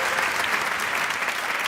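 Dense clapping from a small group applauding Hamed and Hasanain, steady and close throughout, with a voice faintly underneath.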